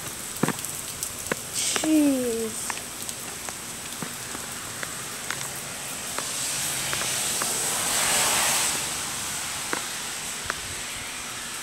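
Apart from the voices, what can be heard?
heavy rain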